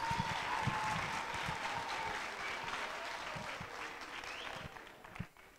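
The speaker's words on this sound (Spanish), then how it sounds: "Un fuerte aplauso, por favor." Audience applause at the 2023 Festival de la Voz, a steady wash of clapping with some faint cheers and voices mixed in, holding for several seconds before thinning out near the end.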